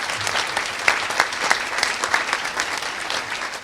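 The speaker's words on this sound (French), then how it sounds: "Mesdames et messieurs, applaudissez Siegfried." Audience applause at the opening speech of a Greentech hackathon in Sophia Antipolis, a steady wash of many hands clapping with a few sharper claps standing out, filling the room at moderate loudness with no talk over it.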